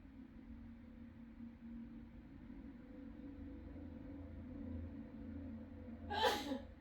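A single sharp sneeze bursts out near the end, close and fairly loud, over a steady low room hum in a workshop where resin is being poured for a chess set.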